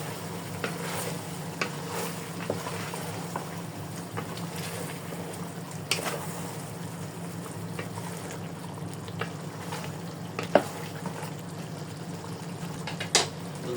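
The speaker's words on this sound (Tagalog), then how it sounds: "Haluin natin." Chicken caldereta being stirred in a pot as it sizzles, a soft continuous simmering hiss broken by occasional scraping knocks of the utensil against the pot.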